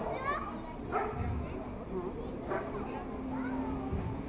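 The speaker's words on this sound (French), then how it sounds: "Voilà, il aboie." A fire brigade search dog barks during a firefighters' dog-handling exercise in Aulnay-sous-Bois, giving a couple of separate, moderately distant barks among people's voices and outdoor background noise.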